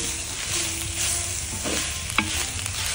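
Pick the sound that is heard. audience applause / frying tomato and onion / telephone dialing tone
frying tomato and onion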